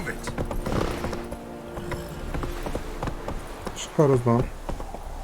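Roach, a horse in The Witcher 3, gallops with hoofbeats pattering under a voice, and a brief vocal cry cuts in near the end.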